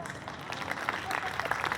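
Audience clapping at a Hindi-language poetry or shayari gathering, a dense patter of applause over a murmuring crowd, steady and moderately loud throughout the short stretch.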